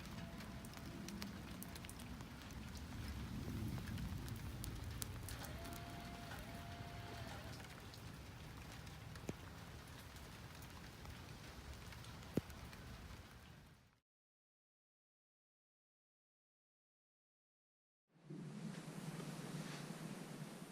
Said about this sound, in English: you can kind of see the rain on the lid